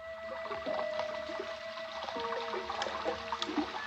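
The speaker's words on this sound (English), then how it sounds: "the rainwater rushed by the room's only window" Rainwater rushes and trickles steadily past a window, with gurgling splashes and dripping over a low continuous flow, fairly close and moderately loud.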